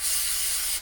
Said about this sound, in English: Now what I like to do is spray a little bit on the rag.